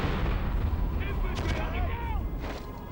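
An anti-tank mine blast in the PlayStation 2 game Conflict Desert Storm, a loud, continuous rumbling explosion with debris crackle that stays heavy for about three seconds.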